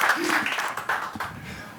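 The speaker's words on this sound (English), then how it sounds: "Warm applause" An audience at a t3n stage talk in Hamburg claps briefly and warmly; dense applause is mixed with a voice over the short burst.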